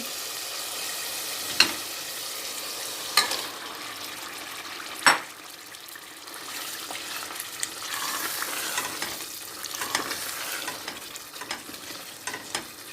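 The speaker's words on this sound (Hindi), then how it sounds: "अब इसमें बोनलेस गोश्त डालेंगे।" Boneless chicken meat frying and being stirred in a pot, a steady close sizzle with a few sharp clinks of the spoon against the metal, no voices.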